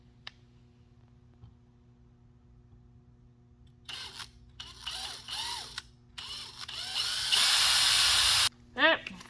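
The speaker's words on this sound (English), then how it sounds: "take our bigger drill bit, put this guy back. And drill away." Drilling with a larger bit during a zero-degree handlebar install on a 2022 Superjet: quiet room tone, then several short whirring bursts and one sustained, loud, steady drill run near the end, with brief talk between.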